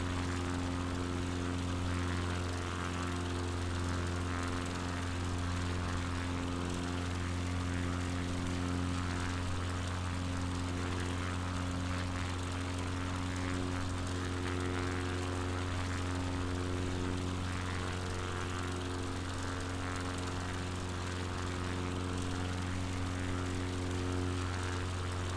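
Steady droning hum of a propeller airplane engine inside Microsoft Flight Simulator on a Patagonia bush trip, a constant low tonal buzz with layered harmonics holding level throughout, no voices over it.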